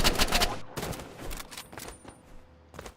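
Gunfire in the Rivals video game: several quick bursts of shots crack close and loud, then thin out into sparser single reports, with no clear talk.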